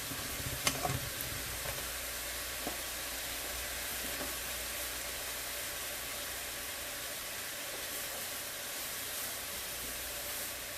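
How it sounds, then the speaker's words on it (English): Rice with green peas sautés in a pan, producing a soft, continuous hiss of frying with a few faint utensil taps early on and otherwise an even, quiet sizzle. "Let that saute up a little bit"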